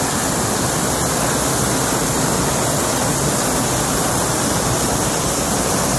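The Blairskaith Linn waterfall roars steadily from close by, a dense, unbroken rush of falling water filling the whole scene with no voices.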